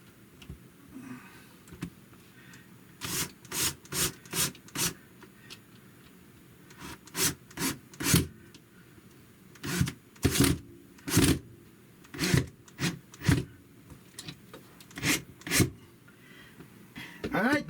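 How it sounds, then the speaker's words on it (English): Screws are driven into a Bluetooth stereo speaker build in a series of short, close, sharp bursts with pauses between, some grouped in quick runs, over a quiet indoor background. "Let's get this remaining screws in there."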